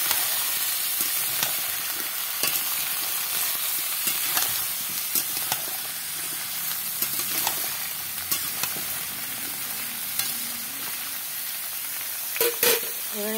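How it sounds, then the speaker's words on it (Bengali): Chopped young jackfruit fries in a pan with a steady, hissing sizzle, dotted with light stirring taps and scrapes, and a couple of louder clatters near the end; no voices. "এবার ভালো করে এটাকে কষিয়ে নিতে হবে।"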